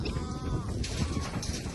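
Goats bleat amid steady, noisy background rumble, their wavering calls overlapping faintly at a moderate distance.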